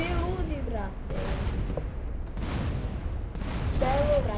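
Bomb explosions from the video game GTA San Andreas go off in a series of loud, sharp booms a second or so apart, over continuous game noise and rumble.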